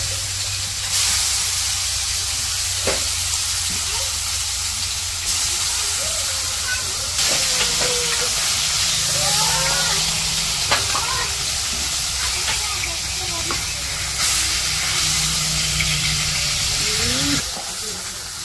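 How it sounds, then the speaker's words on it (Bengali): Big mahashol fish, coated in turmeric, chili and salt, frying in oil in a kadai, giving a steady, dense sizzling hiss that runs unbroken throughout with faint clinks and background voices underneath. "এখন ভাজা নিব মাছগুলা।"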